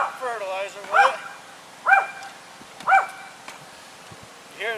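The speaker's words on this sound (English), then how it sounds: "You hear the dog barking in the background." Dog barking in the background at a garden, a short yip followed by three evenly spaced loud barks about a second apart, with a faint yelp at the end.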